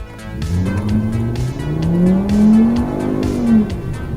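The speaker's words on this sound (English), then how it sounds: "Traction control off. I will just hit the gas from 0 miles per hour." A 2.5-litre VW Golf Mk6 launching hard from a standstill with traction control off, its engine revving up loudly as the tires briefly squeal and slip before gripping, heard close and continuous without voices.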